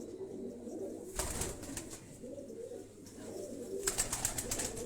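Rooftop pigeons coo in low, rolling phrases near the microphone, with bursts of rustling or flapping noise and some high-pitched chatter in the background.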